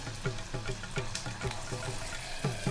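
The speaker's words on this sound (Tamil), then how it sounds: "கொஞ்சம் தண்ணி விடுறேன்" Water is poured into a cooking pot of sambar with turmeric and asafoetida, a close steady splashing trickle with faint knocking, no one talking.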